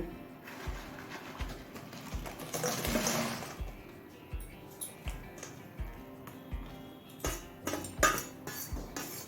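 Fried lentil fritters go one by one into a bowl of cooled water, with quiet plops, small splashes and light clinks of a utensil against the bowl in an uneven rhythm.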